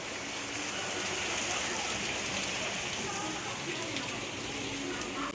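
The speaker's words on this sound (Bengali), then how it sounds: "দেখো বাইরে মুষলধারে বৃষ্টি নেমে গেছে, দেখেছো?" Heavy monsoon rain pours down outside in a dense, even wash of hiss and patter, steady and moderately distant throughout, with no talk over it.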